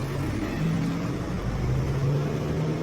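A car on a deserted road at night drives off, a loud steady engine drone and rumble that holds constant throughout the clip with no voices.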